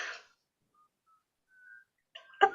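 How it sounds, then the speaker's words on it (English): A person whistles a few soft, thin tones, faint and widely spaced in near-silence, with a brief louder burst of sound at the end. "we can absolutely whistle while we work."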